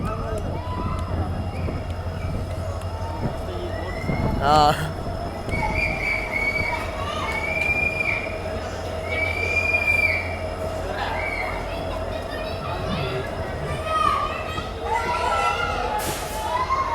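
Kushtagi Express pulling into Kushtagi station, its wheels squealing loudly and steadily on the rails for the whole stretch, with crowd noise, children shouting and brief speech mixed in nearby.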